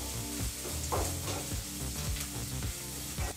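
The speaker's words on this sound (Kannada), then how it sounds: "ಈಗ ಇದನ್ನೆಲ್ಲನೂ ನಾವು ಚೆನ್ನಾಗಿ ಬಿಸಿ ಮಾಡ್ತಾ 1 ನಿಮಿಷಗಳ ಕಾಲ ಚೆನ್ನಾಗಿ ಫ್ರೈ ಮಾಡ್ಕೋಬೇಕಾಗತ್ತೆ" Curry leaves and green chillies frying in hot oil for masala rava idli, a dense continuous sizzle with faint stirring, close and steady, no voices.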